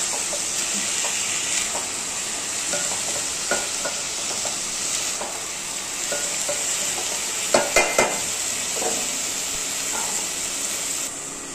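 Moth beans frying in hot oil in a pan, a continuous crackling sizzle with irregular stirring knocks and scrapes, a few sharper clinks near the end, close and clear with no speech.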